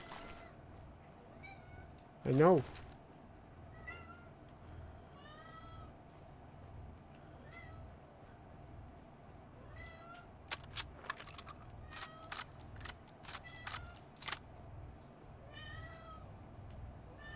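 A cat in the game Fallout: London meows several times at moderate level. The meows come with scattered clicks and jangly knocks, and a voice is briefly heard.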